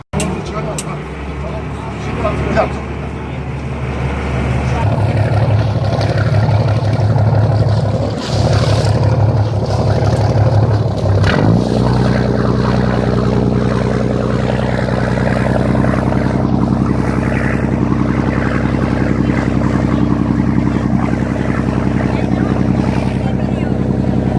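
A fishing tour boat's engine fires up off Taşucu, Mersin, then settles into a loud, steady droning rumble that holds for the rest of the stretch, with a brief rev change partway through.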